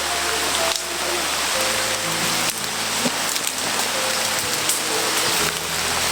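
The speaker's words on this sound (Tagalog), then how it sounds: "Ulan na talaga." Steady rain falls outdoors, a dense, loud hiss of drops drumming on surfaces that continues without a break, with occasional knocks and faint voices underneath.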